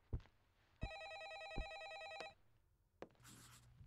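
A telephone in a video game rings with a rapid trilling electronic bell for about a second and a half, framed by soft knocks and shuffling, all fairly quiet.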